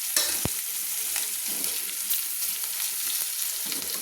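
Chopped onion dropped into hot oil, with a sharp clatter, then a bright continuous sizzle and faint stirring scrapes close by, in a fish-head, malabar spinach and pumpkin dish.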